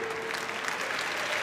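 Audience applause at a university graduation ceremony, a steady dense patter of many hands clapping in a hall, brief and fairly soft.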